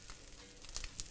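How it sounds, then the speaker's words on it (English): Quiet sizzling of walleye fish cakes frying in olive oil in a pan, a soft steady crackle with a few brighter pops. "let's put the crab cakes in the frying pan"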